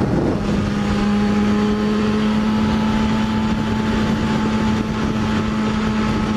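A Yamaha FZ6R motorcycle engine drones steadily under acceleration on an open highway, with a sustained tone and heavy wind rush buffeting the microphone throughout.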